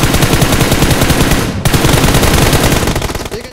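Rapid automatic gunfire from PUBG Mobile, a loud, continuous stream of shots that breaks briefly near the middle and then resumes, dense and close.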